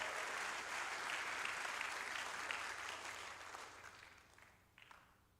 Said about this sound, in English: Give a clap offering to Jesus.